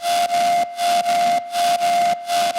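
A harsh, buzzy lead synth plays a steady high note chopped into four rhythmic pulses, loud and up front.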